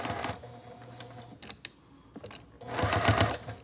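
A sewing machine stitches across a quilt block in short bursts, pausing between runs and finishing with a louder, denser stretch of stitching up close.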